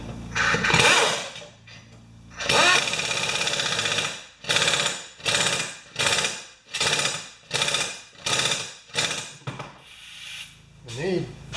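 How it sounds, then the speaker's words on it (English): An old pneumatic air tool rattles a lawn mower blade loose on a 20-inch Murray self-propelled mower, one long burst followed by about eight short, loud hammering bursts in an even rhythm, up close. "This old air tool doesn't put that many foot-pounds on"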